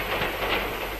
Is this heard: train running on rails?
yes